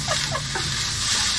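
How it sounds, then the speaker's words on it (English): Food sizzling in a pan while cooking, a steady broadband hiss and crackle throughout, with faint clucking-like chirps early on and no talking. "sizzling away there"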